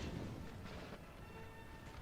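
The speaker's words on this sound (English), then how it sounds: "it's time this cannon opened fire as well" Cannon artillery fire in the Napoleon Total War video game booms through a dense, continuous roar of battle noise, with a few heavier bursts rising from the din.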